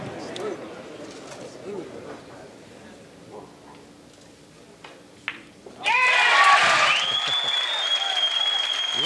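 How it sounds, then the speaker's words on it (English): Quiet room sounds and faint murmuring give way to a sudden surge of crowd applause and whistling for Tom Kennedy at the finals of the 1992 U.S. Open 9-Ball Championship, loud and sustained to the end. "Listen to that crowd reaction for Tom Kennedy"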